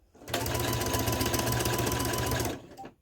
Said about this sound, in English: and sew the strap pieces together. Double stitch at the beginning and the end.